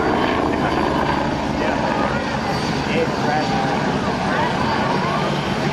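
A modified BO-105 helicopter performs aerobatic air show maneuvers, a loud continuous rotor thump and engine drone holding steady throughout, with a voice faintly underneath.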